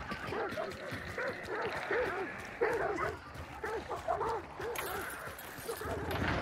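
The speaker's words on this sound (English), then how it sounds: "Did I hear dogs? Yeah, there's dogs over there." Several dogs bark and yip at a distance in a steady stream of short barks, with someone talking over them at times.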